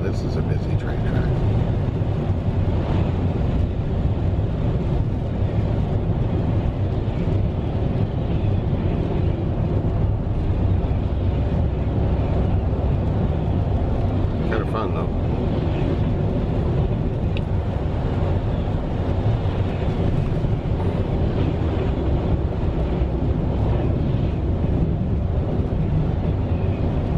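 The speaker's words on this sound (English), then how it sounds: "Man, this is a busy train track." Loud, continuous low rumble and roar of a train passing nearby, steady for the whole stretch with faint clatter on top.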